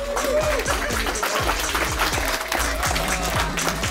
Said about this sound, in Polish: więc wielkie brawa.